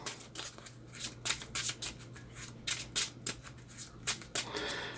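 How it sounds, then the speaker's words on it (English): A deck of Marvel Champions card game cards being shuffled by hand, a rapid series of crisp riffling bursts and soft slaps repeating over several seconds, close and moderately loud over a low steady hum. "I'm going to shuffle."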